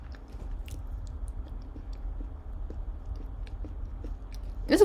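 Quiet, steady chewing of a chewy Chips Ahoy Reese's Pieces cookie, soft close-up mouth sounds running throughout with a louder burst at the very end.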